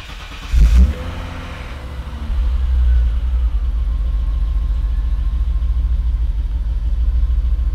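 A BMW E30 engine cold-starts after sitting a day or two. The starter cranks briefly, the engine catches with a loud burst, then it settles into a steady, close idle that rises slightly after a few seconds.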